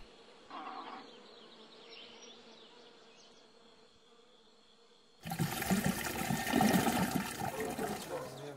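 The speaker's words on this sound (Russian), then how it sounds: "Вот кран. Наливайте." Water gushes loudly from a tap as a container is filled, a steady rushing stream starting abruptly after several seconds of quieter outdoor ambience.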